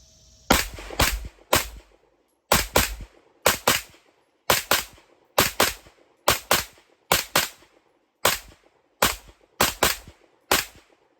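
A Springfield Armory Echelon pistol fires about fifteen sharp, loud shots outdoors, at an uneven pace, in short clusters with pauses between them, each crack followed by a brief decay, with no talk.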